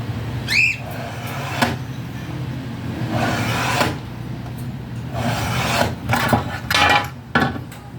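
An improvised scraping tool is dragged along an aluminum sliding window frame in a few rasping strokes, close and fairly loud, with scraping and knocking sounds over steady background noise.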